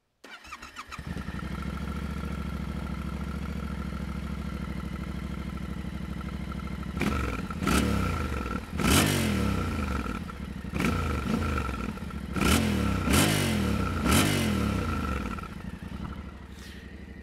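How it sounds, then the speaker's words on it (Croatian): A 2024 Yamaha Tenere 700 Explore with its stock exhaust, recorded near the tailpipe, starts up and settles into a steady idle, then gives about six sharp throttle blips that rise and fall before returning to idle. "Da vidimo kako se čuje motor kad se upali, kakav je fabrički zvuk."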